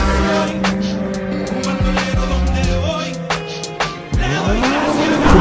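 A Peugeot 308 GTI accelerates hard, its engine revving up in rising sweeps broken by sharp fluttering chirps and clicks from the turbo between pulls, loud and close.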